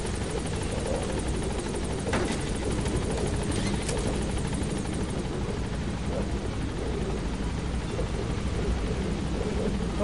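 A steady helicopter rotor drone with whirring engine noise holds for the whole stretch, loud and unbroken, with faint voices and game effects mixed underneath, from the video game Metal Gear Solid V: The Phantom Pain.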